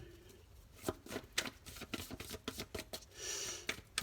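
Tarot deck from a universal scarabeo set being shuffled close up, a quick run of soft papery riffles and taps with brief pauses, quiet and without talk.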